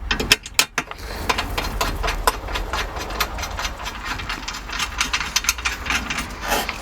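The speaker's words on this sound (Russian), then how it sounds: "Закручиваем наши болты." Bolts on a BMW X5 E53 door being tightened with a 13 mm wrench, giving a run of quick, close, metallic ratcheting clicks and small knocks in steady bursts with no talking.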